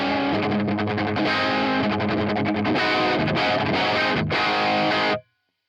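A distorted electric guitar plays crunchy rock chords through a Marshall amp model on a Neural DSP Quad Cortex, loud and sustained, then stops abruptly into silence.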